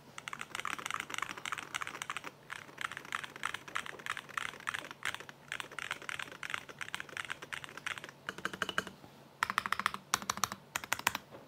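Typing on a Magic Real 67 gasket-mount mechanical keyboard with its switches set in silicone, producing dense, fast clusters of close keystrokes with brief pauses, crisp and fairly quiet, with no talking.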